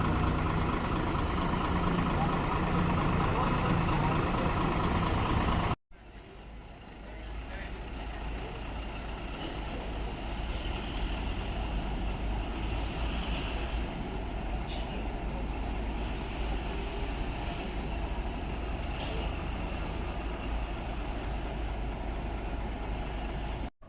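A front-engined bus with a Tentrem Max body idles with a low, steady rumble. It is loud and close at first, then drops to a quieter, more distant hum with faint occasional clicks.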